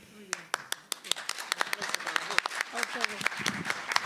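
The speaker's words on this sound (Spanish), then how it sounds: "Aplaudimos a las dos." Lecture audience applauding at the end of an accounting-records talk, a dense run of sharp claps lasting throughout, steady and fairly close.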